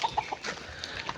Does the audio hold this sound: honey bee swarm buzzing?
no